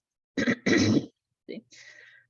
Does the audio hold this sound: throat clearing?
yes